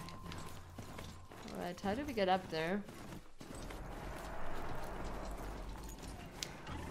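A horse in Horizon Zero Dawn pounds along in a quick run with rapid hoofbeats beneath a person's speech, joined by a brief whinny-like cry in the middle.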